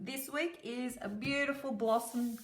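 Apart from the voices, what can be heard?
No everyday noise stands out behind the speech.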